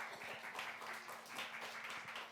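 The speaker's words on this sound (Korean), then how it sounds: "박수 크게 쳐주세요." Children and teachers in a Sunday school clapping together, a faint, continuous patter of applause in a room, with a few voices mixed in.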